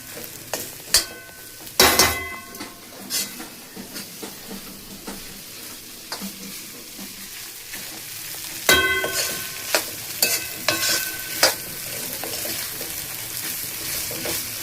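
Khichdi stirred into spices in a pan, with repeated clattering scrapes of a spoon against metal in irregular bursts over a soft ongoing sizzle.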